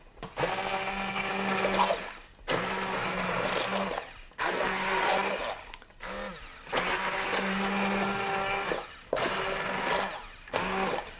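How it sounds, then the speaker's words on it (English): An immersion blender pureeing hot tomato spaghetti sauce whirs in several bursts, starting and stopping with short pauses between, loud and close with a steady motor drone. "I like to puree it with an immersion blender"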